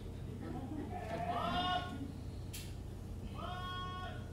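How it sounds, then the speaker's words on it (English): Sheep in a film excerpt bleating in two clear, wavering calls, the first longer and louder, the second shorter, with a brief sharp noise between them. "here are the sheep"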